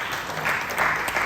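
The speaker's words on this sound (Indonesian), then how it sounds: "kita beri tepuk tangan dulu" Brief burst of steady clapping from an audience at a church family seminar, moderately loud and even throughout.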